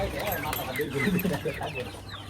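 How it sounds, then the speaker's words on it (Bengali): Native deshi chickens cluck on a poultry farm, a few soft clucks and squawks nearby amid background noise and someone talking. "আচ্ছা, এখানে হচ্ছে বেশ কিছু দেশি মুরগি আছে"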